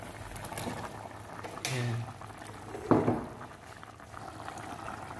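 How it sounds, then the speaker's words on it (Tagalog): A pot of chicken adobo with oyster sauce bubbles at a low boil, soft and close, with a splash or clatter partway through. A brief spoken word sits over it. "Ayan po, kumukulo na"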